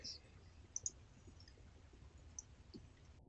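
A few soft computer mouse clicks sound in a quiet room, with two close clicks near the start and one more later.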